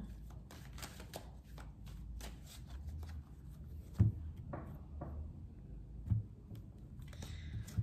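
A deck of tarot cards is riffled and shuffled up close in a continuous soft flutter, with a few sharper slaps and taps as the deck is cut, moderately quiet.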